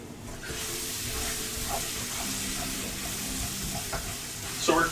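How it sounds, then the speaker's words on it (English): Meat for a stovetop cassoulet sears in a pan, giving a steady, close sizzle and hiss with occasional stirring scrapes and a brief louder clatter at the end. "We're not done searing all this stuff."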